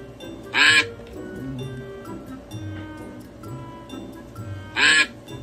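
Two loud quack-like calls, a person imitating a duck, one near the start and one near the end, stand out above a busy background of crowd noise and chatter.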